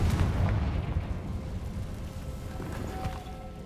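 A Confringo spell explodes in Hogwarts Legacy as a deep, booming blast that rumbles loudly at first and then decays into a lingering low roar with faint crackling.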